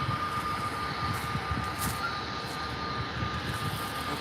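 Air Tanker Airbus A330 jet passing at Faro airport, a broad steady engine roar with a faint whine on top, constant and fairly loud throughout, with no talking.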